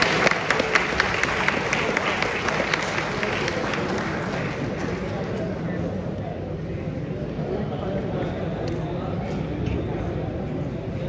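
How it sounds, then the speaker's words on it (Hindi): An audience in a college auditorium at a Delhi University workshop applauds for a retiring postal official, giving dense, steady clapping that fills the room throughout. "तो एक बार जोरदार तालियां हो जाए"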